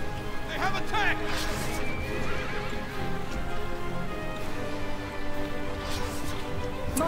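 In the Battle for Middle-earth game, horses of Rohan whinny loudly and hooves clip-clop beneath, amid battle noise and voiced unit chatter.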